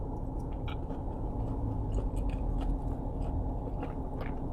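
Bites into crispy-battered Korean fried chicken soaked in sauce give several close, sharp crunches scattered over soft chewing and low background noise.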